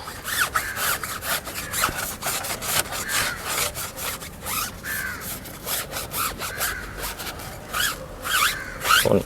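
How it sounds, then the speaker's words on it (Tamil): A white sponge rubs and polishes a car tyre with tyre shine, giving close, loud, rhythmic scrubbing strokes in quick repeated bursts, with no voices. "அந்த ஸ்பாஞ்சை எடுத்து நீங்கள் இப்படி போட்டிங்க அப்படின்னா உங்களுக்கு வந்து ஃபுல்லாக வந்து பாலிஷ் ஆகிடும்"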